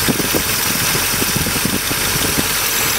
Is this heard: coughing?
no